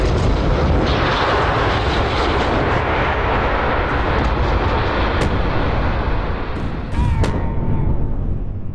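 In the Kerbal Space Program video game, an aircraft engine runs at full throttle, a loud, steady roaring rumble that holds throughout, broken near the end by a few sharp cracks and a brief whistling tone.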